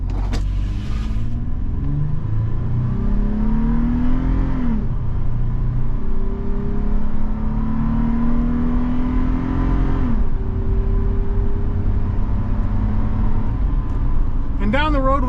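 A 2023 Toyota 4Runner Limited 4x4 with a 5-speed automatic pulls away from a stop, its engine revving up in long rising sweeps broken by slow gear shifts, loud and close, with a voice talking over it.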